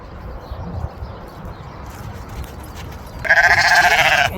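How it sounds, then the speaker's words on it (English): Lambs bleat on a farm, a loud sustained cry rising sharply near the end after a quieter stretch of ambient barnyard noise. "I see the lambs over there."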